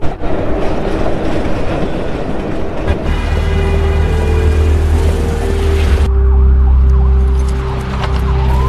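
A train rumbles loudly nearby, its low roar joined by a sustained whining tone as the cars roll past.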